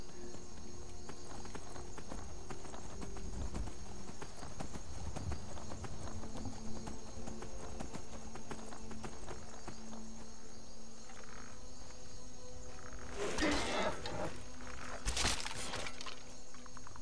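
Hooves of a horse in Skyrim clop steadily at a gallop over a constant outdoor bed of chirping crickets and insects, with a couple of louder rustling bursts near the end.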